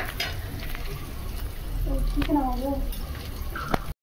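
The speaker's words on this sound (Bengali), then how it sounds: "আর এখানে মাছের ডিমের বড়া হচ্ছে" Fish roe fritters fry in a pan with a steady, soft sizzle; a voice speaks briefly over the cooking midway through.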